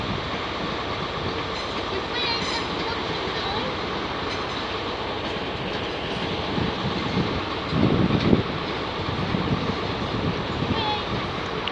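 Electric trains, including a Class 387 unit, depart London King's Cross station with a continuous rumbling roll and wheel noise, steady and fairly close, with a louder clatter partway through and people talking.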